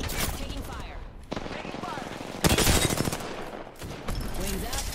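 Rapid automatic gunfire in an Apex Legends battle, loud bursts sustained through most of the stretch with a sharper, heavier volley near the middle, mixed with game effects and a player talking over it.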